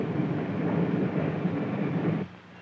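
A 1950s passenger train standing at a station gives off a steady low rumble and hiss that carries on for about two seconds, then drops off abruptly to a quieter hum.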